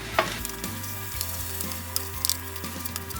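Quinoa splashed with soy sauce sizzles in a hot stir-fry pan, a steady crackling fry with occasional clinks and stirring scrapes, close and moderately loud, no voices.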